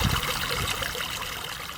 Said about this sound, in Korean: 이 물소리들,